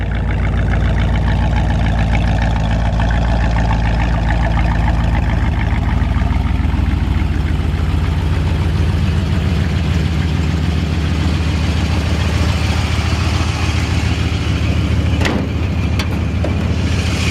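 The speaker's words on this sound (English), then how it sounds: "So old school exhaust." A 1947 Mercury Coupe idles steadily with a deep, old-school exhaust rumble, loud and close for the whole stretch, with a couple of brief clicks near the end and no talking.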